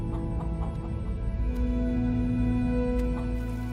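Chickens cluck in a steady, fairly loud stream over a sustained tonal background, with no talking.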